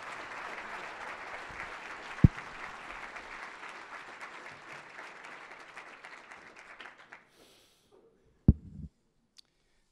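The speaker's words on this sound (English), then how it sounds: "Another round of applause for them" Audience applause at an annual session fills the room with dense, steady clapping that fades out over several seconds, followed by a few isolated loud knocks or handling thumps in near silence.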